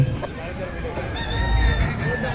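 A red fighter hen, about seven months old, at the Kharagpur Rohini haat market clucks and crows in short calls nearby, mixed with a busy market hubbub and a voice.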